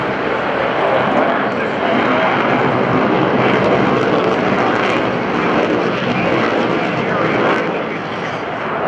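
Military aircraft roar loudly overhead during a 2015 Fleet Air Power Demonstration at NAS Oceana airshow, a dense continuous engine rumble that swells slightly and never drops away.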